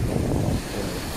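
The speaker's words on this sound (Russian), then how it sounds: "посмотрите, как подошло море" Stormy sea in Berdyansk pushes waves up onto an eroding shore with strong wind, a loud rumbling surge buffeting the microphone, easing slightly partway through.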